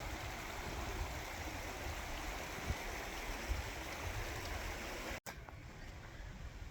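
A creek runs steadily beside a hiking trail in the mountains on a backpacking loop, its broad, continuous rushing close and loud throughout, with a brief dropout near the end.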